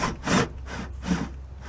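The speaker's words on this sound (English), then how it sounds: "Go ahead and drill it out real slow." A drill bit grinds slowly through a panel in two separate bursts, each a rough, rasping whir that fades between passes.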